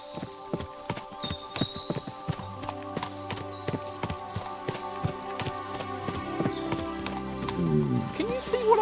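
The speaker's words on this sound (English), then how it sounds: "What a lot of horses!" Horse hooves clip-clop in Kingdom Come Deliverance 2, a steady rhythm of close hoof strikes over a low hum, with a whinny and rising background noise toward the end.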